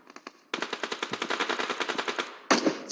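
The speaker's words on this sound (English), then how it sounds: "Shots from Nangs as well, that's fine." Rapid gunfire from shotguns in PUBG Mobile at a competitive team match, a few quick shots followed by a fast regular burst of about twenty reports, then a louder closer blast, with no talk.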